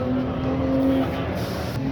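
A Black Falcon Mercedes SLS race car runs on a busy track during practice and passenger laps, its engine drone steady and fairly loud with a sustained low tone throughout, and no talk over it.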